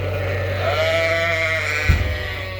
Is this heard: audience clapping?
no